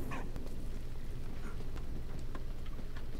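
A dog barks in Valiant Hearts: The Great War, a few short yips over a steady, dense game background with ambient noise.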